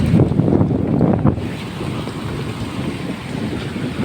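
Steady gusting wind buffets the microphone outdoors during a days-long spell of rain, loudest in the first second and a half, with a dense rushing wash of wind and rain.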